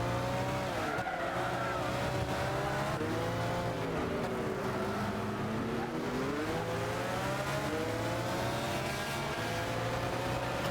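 A race car in the video game Gran Turismo 6 whines at high revs, its engine pitch sweeping up and down through gear changes and cornering, with tire skidding mixed in, steady and loud throughout.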